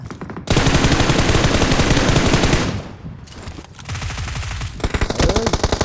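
Dense, rapid automatic gunfire in PUBG Mobile, loud and close, with continuous bursts that briefly thin out before resuming, overlapping shots with no talk.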